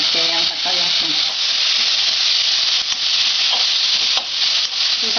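Tomatoes sautéing in hot oil in a pan for Ayurvedic rasam, a loud, continuous sizzle with occasional stirring scrapes and a faint voice early on.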